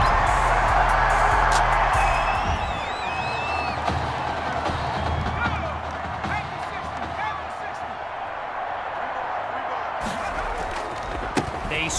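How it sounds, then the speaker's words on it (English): Crowd at a football championship game roars after a touchdown, loud cheering at the start that fades into sustained crowd noise, with a commentator talking over it. "Listen to this crowd."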